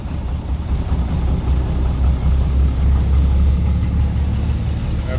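A locomotive engine idles on the East Terminal Railway during operating lessons, a loud, steady low diesel throb with a continuous mechanical rumble and no voices.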